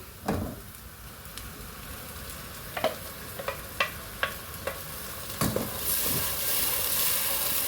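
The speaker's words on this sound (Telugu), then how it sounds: "ఇప్పుడు ఇది పేస్ట్ వేద్దాము" Ground spice paste for a Punjabi-style palak paneer curry fries in a pan with a soft, continuous sizzle, broken by a few sharp scraping stirs of a spoon.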